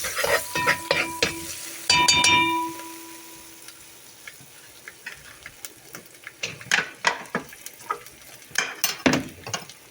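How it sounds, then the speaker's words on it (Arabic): Garlic cloves, onion and spices sizzling and being stirred in a pan for an okra and meat stew, with soft crackle under scattered clinks and scrapes of a utensil against the pot, closely miked. "نقلبي بقى."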